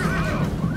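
A horse neighs loudly during a Rome: Total War video game battle, one short whinny over a dense low rumble of battlefield noise, with no talk.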